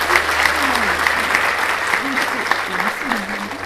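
A crowd at a university event claps steadily for Dr. Mustafa Aydın of Istanbul Aydın University, continuous applause with faint murmured voices and tonal sounds beneath it.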